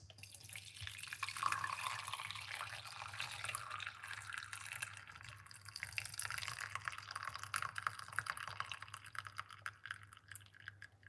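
Tea brewed from onion, pineapple peel and honey trickles into a cup in a faint, steady stream, with soft splashing and dripping lasting several seconds and no voices.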